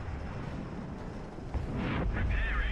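A tank cannon fires at an M48 in War Thunder, a sudden blast partway through followed by a loud, deep rumbling boom that lingers over the steady drone of the engine.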